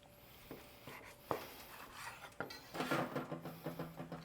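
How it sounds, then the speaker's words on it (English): A knife sawing into a grilled ribeye steak on a board, with quiet scattered scrapes and taps building into a run of rhythmic cutting strokes near the end, close and faint. "let's cut into this steak and see how we did"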